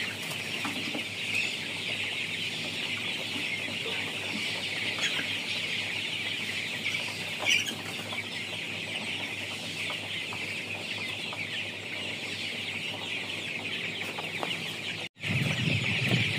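A flock of Propita Super colour bat chickens on feed clucks continuously in a poultry shed, a dense, steady chorus of overlapping calls with a brief cut near the end.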